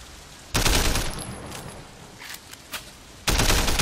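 Rapid gunfire in a Sleeping Dogs shootout: two loud, dense bursts of automatic fire, one early and one at the end, with scattered single shots and crackling impacts in the quieter stretch between.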